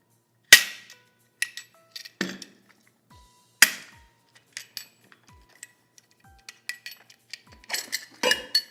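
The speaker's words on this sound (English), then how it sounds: "undo your pump clamps." Metal clamps on a Columbia mud pump being undone by hand, giving sharp clanking and clicking impacts in an irregular series, a couple of louder metallic knocks early on and a busier cluster of clinks toward the end, close and without talk.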